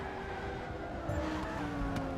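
Lamborghini GT3 race car in a racing video game at the Catalunya circuit, engine droning steadily at high revs with a brief tyre scrub, continuous and fairly loud throughout.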